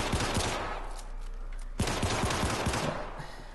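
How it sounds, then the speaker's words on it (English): An assault rifle fires in the game Syndicate in close, loud bursts of rapid punchy shots, with a sharp cluster near the start and another volley midway, over a dense battle din. "you get a sound of the assault rifle right now"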